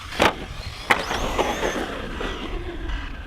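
A Proline Pro-MT 4x4 1/8-scale RC truck on 3S power runs outdoors, with sharp bursts of electric motor whine and revving, brief tire scuffs and a rising spin-up near the end, moderately close.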